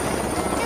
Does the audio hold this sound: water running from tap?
no